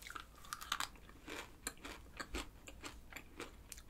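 Crunchy convenience-store Dubai chocolate bar with a hard, crisp shell and soft filling being chewed, giving a string of close, irregular crisp crunches and bites with no talking.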